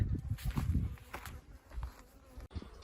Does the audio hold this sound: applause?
no